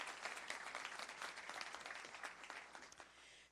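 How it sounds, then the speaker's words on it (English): A crowd applauds steadily for several seconds, dense and sustained, then fades away. "another round of applause."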